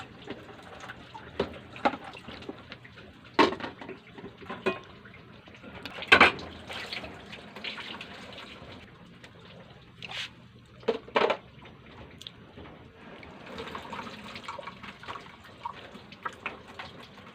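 Running tap water splashes in a sink as a child washes dishes by hand, with scattered clinks and knocks of dishware and intermittent splashes, fairly quiet and close.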